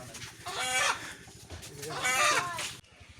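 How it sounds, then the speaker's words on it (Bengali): Two freshly bought chickens cluck and squawk close by in two loud bursts of agitated calls, with rustling between them and a sudden cut near the end. "এই যে 2টা মুরগ কেনা হয়েছে।"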